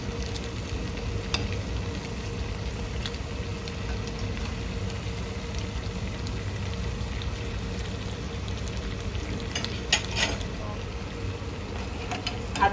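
Potato balls deep-frying in oil, a steady crackling sizzle throughout with occasional clatter of a utensil, a voice speaking intermittently over it.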